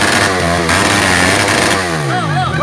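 A 250cc dirt bike on a waterfall trail, revving hard while spinning and burning its tire, engine pitch sweeping up and down in loud, close, wavering bursts.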